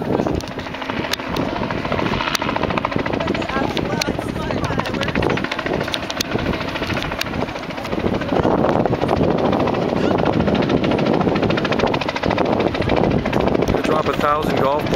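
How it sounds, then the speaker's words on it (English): On a sunny afternoon over Salt Spring Island, a helicopter carrying golf balls for a drop flies overhead, its rotor noise a steady broad roar with gusts of wind on the microphone and people talking. "There's the helicopter."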